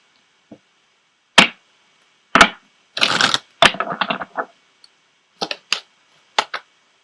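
An Ascended Masters oracle card deck is handled during a tarot reading as cards are shuffled and pulled: sharp, close snaps and flicks come singly and in quick bursts, separated by short silences, with no speech.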